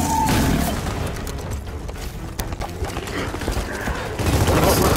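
Gunfire aimed at the Snatcher creature in Gears of War 4, bursts of shots over a busy battle mix with hoofbeat-like thumps, loud throughout with voices speaking over it.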